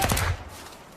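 Gunfire in a tense film scene about hired killers: a loud, sharp burst crackles at the start and fades within a third of a second into a dull rumbling decay.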